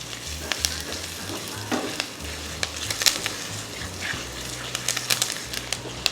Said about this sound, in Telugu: కరివేపాకు చిటపటం అంటుంది